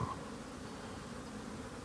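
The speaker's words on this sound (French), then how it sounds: "il y a 3 abeilles qui se cavalent après" Honeybees buzz faintly around a water source in garrigue scrubland, a soft, steady insect drone with no voices over it.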